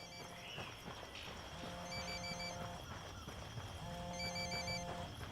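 A phone rings repeatedly in the Ghost Recon Wildlands video game, a steady electronic ring in regular bursts set against a busy outdoor game background with faint footsteps and ambient noise.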